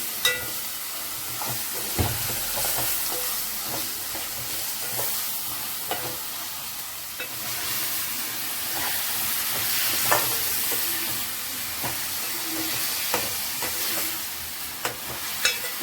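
Chopped tomatoes hit a hot pan of onion paste for paneer masala, sizzling steadily while a spoon scrapes and stirs in irregular knocks, close and alone without any talk.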